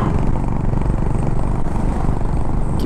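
A Honda Highness CB350 motorcycle runs on an open highway in Rajasthan, its engine a loud, close, steady thump with wind rushing over it and no voices.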